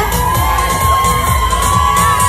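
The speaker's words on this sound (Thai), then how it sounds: "เสียงเชียร์อย่าได้ตกนะครับ" Audience at the Mister National Universe 2022 pageant cheering loudly, a dense, sustained crowd roar of shouts and whoops with no pauses.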